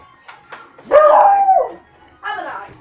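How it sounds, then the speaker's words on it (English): A dog indoors near the camera gives a few short yips, then one loud drawn-out howling bark, and follows with another shorter bark. "Our dog just came in. Yeah. She is really annoying. She likes to bark at the camera."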